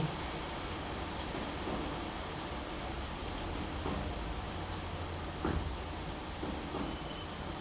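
Steady rain falls in a dense, even hiss, close and moderately loud, with no voices and a few faint low rumbles underneath.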